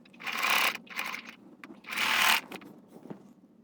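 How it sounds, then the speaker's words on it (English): A sewing machine stitches a shortened top strap in quick bursts: two short runs, a pause, then a longer run, followed by faint handling clicks, close and fairly quiet, with no talking. "let's head to sewing machine and then I will show you the finishing project"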